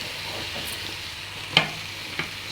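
Vegetables sauté for a winter vegetable khichuri, a soft, continuous sizzle in the pan broken by two sharp utensil taps near the end.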